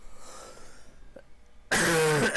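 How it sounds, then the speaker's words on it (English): A single sharp cough bursts out close to the microphone after a quiet stretch with a low game-engine hum, loud and abrupt in a truck-racing sim session. "Fighting a little cough."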